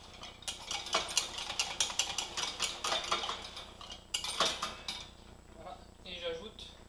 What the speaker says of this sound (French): N'hésitez pas à bien fouetter pour éviter les petits grumeaux de farine.